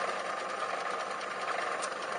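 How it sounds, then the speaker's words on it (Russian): A 1992 Feya 2 washing machine motor starts spinning with a quiet, steady whirring hum and a faint rapid mechanical flutter, running evenly on its own. "Ну вот, начал крутиться мотор."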